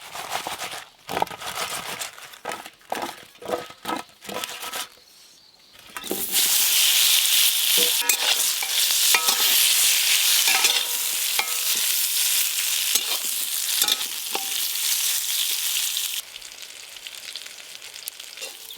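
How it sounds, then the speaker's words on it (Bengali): Eggplant slices rubbed with salt, turmeric and chilli powder fry in mustard oil in a kadai; scraping and stirring clatter comes first, then a loud, sustained close sizzle fills the rest. "বেগুনগুলো একদম হালকা করে ভাজা হয়ে গেল"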